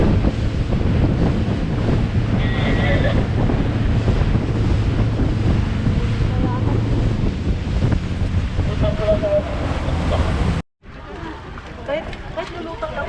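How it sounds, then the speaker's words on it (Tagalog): Strong sea waves off Boracay, heard from a jet ski as continuous rushing water and surf mixed with heavy wind buffeting the microphone, with a brief dropout near the end and voices talking over it. "Ay, malakas ang alon eh."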